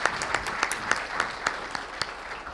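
Audience applause at a stock exchange listing ceremony honoring farmers, a steady mid-distance clapping texture with sharper individual claps, brief and fairly soft.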